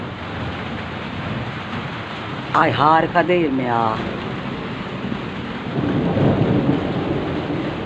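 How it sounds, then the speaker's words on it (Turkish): Steady rain patters in the background with a low rumble, while a person briefly speaks over it and the downpour continues after. "Yağmuru dinlemeyek mi?"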